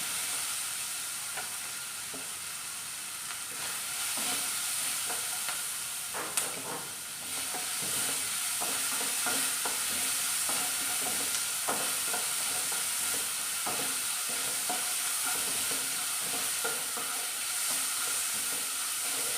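Beetroot curry masala sautéing in a pan: continuous soft sizzle with repeated scraping and stirring strokes throughout, fairly quiet and steady, with no voices.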